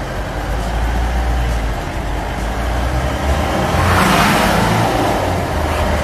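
A classic Mahindra Thar diesel accelerates in first gear on winding Kerala roads, its engine a close, steady rumble that swells noticeably louder near the end.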